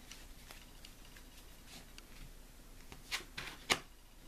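Quiet card handling as a tarot card is drawn from the deck: soft papery rustles and slides, ending in a few sharper snaps and flicks near the close.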